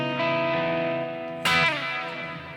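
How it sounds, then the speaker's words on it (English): A Boss Pocket GT guitar multi-effects unit running its Terra Echo preset, sustained chiming guitar notes smeared with lush echo and modulation, a fresh strummed chord cutting in midway and ringing out into the repeats. "Terra Echo, one of my favorites."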